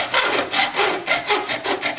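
Single-cut file worked across the end of an air cannon barrel clamped in a vise, about seven rhythmic rasping strokes in two seconds, close and loud with no one talking.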